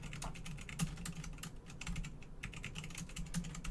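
Faint, quick keystrokes on a computer keyboard tap in an uneven stream over a low background hum, with no talking.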